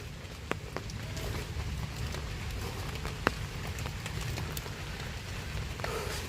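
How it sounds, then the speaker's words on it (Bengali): Steady rain pours down across a wooded botanical garden in Howrah during the monsoon, a dense continuous wash with a few sharp drips and taps standing out, no voices. "আর বৃষ্টিটা মোটামুটি ভালোই পড়ছে"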